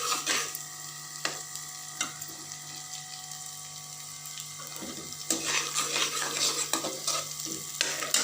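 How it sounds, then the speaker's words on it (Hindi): Garlic and green chillies fry in hot oil for saag, sizzling steadily while a spoon stirs and scrapes the pan in repeated strokes. The frying grows busier and louder toward the end, with no voices. "इसको अच्छे से हम लहसुन को ब्राउन कर लेते हैं।"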